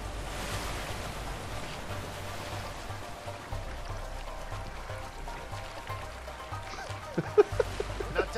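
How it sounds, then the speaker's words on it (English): A rushing waterfall in the video game A Way Out, a steady, moderately loud broadband roar of falling water with a low rumble underneath and a few faint knocks near the end. "Waterfall!"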